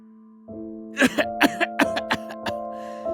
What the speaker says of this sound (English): I cough again